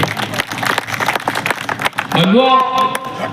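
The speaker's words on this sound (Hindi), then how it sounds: "एक बार जोरदार तालियां ज्ञान सिंह जी के।" Applause and cheering from a political convention crowd greet former MP and minister Gyan Singh, a dense burst of clapping that a speaking voice soon rises above.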